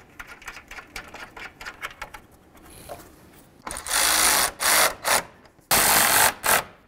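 A ratchet tightens the mounting bolt on the fan assembly of a 2005-14 Ford Mustang, starting with quick, light clicking and then moving into loud, rapid ratcheting bursts close by.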